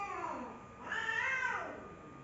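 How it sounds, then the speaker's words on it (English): Cats meow in the background during a game controller unboxing, a couple of drawn-out, rising calls at moderate distance, with no one talking over them. "Cats are going mental"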